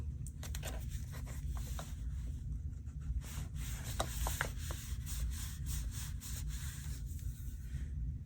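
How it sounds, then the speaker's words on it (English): Washi tape is laid onto a collage page and rubbed down, giving close, quiet bursts of scratchy rubbing and short tearing-like strokes in an irregular rhythm over a low steady hum. "I think I'm gonna go ahead and put on some of this washi tape."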